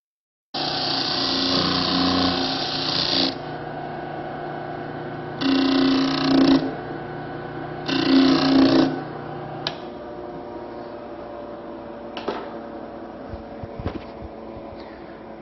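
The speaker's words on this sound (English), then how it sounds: "We'll go ahead and use a bandsaw and cut out this profile" A bandsaw cuts a profile out of MDF for a four-poster bed, with the blade cutting above the line. Three loud, steady cutting bursts are separated by short pauses, and then the saw runs down quietly with a few light knocks.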